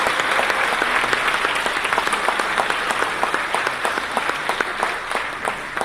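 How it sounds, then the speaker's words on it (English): Sustained applause from a ceremony crowd honoring Arkansas Latino Hall of Fame class of 2025 inductees, many hands clapping densely and evenly for several seconds with individual claps standing out. "give one last round of applause to all the Arkansas Latino Hall of Fame class of 2025"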